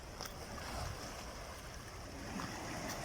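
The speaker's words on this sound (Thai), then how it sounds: "เสียงคลื่นสัดสาด" Steady sea wave wash and splashing at Pattaya, Thailand fills the whole stretch, a continuous rushing surge without pauses.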